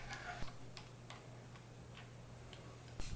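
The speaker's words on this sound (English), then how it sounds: "Use a ratchet with a 17mm socket to tighten the bolts." A ratchet with a 17mm socket tightens bolts on a pump's ring gear cover, giving faint, evenly spaced clicks against a quiet background hum.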